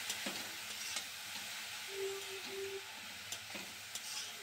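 Grated carrot and green peas being fried in a pan for carrot halwa, stirred with a metal spatula; a quiet, steady sizzle runs under faint scraping, with a couple of brief tonal squeaks midway.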